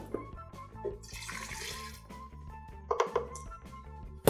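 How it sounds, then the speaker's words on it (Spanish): Almond, rice or coconut milk pours into a measuring cup in a kitchen, a soft trickling and splashing liquid sound, faint and close, with a few small clinks near the end. "Vamos a medir en una tacita medidora una taza de leche de almendras o de arroz o de coco o cualquier leche vegetal que ustedes quieran."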